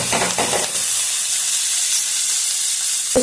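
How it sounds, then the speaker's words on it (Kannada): Tomato and onion frying in a pan for mutton curry give a loud, steady hiss and sizzle throughout, with a few spattering bursts near the start. "ಟೊಮೆಟೊ ಈರುಳ್ಳಿ ಎಲ್ಲ ಚೆನ್ನಾಗಿ ಫ್ರೈ ಮಾಡ್ಕೊಳ್ಳೋಣ."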